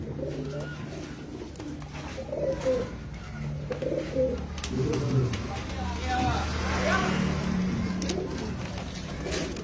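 Breeder pigeons coo steadily in low repeated phrases at a pigeon sale centre, overlapping one another throughout, with voices talking in the background.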